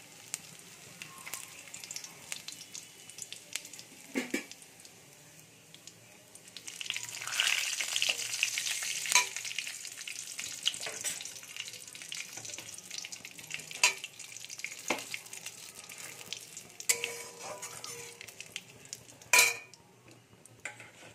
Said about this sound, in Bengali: এবারে ওই মাছ ভাজার তেলের মধ্যে আমি ফোড়নে কিছু দিয়ে দেব। এর মধ্যে আছে গোটা জিরে আর তেজপাতা।